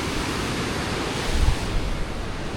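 Sea waves surge steadily against the Portuguese coast, a dense, continuous wash of surf with a slightly louder swell near the middle and no voices.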